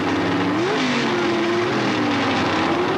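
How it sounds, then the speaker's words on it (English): A Plymouth Arrow drag racing car at the 1979 NHRA Gatornationals roars with a loud, continuous engine drone whose pitch climbs and wavers across the whole stretch. "Plymouth Arrow, is Bob Glidden."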